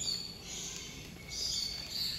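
Birds at a bird park in Kuala Lumpur give faint, high chirps in short bursts over a soft, steady background hush.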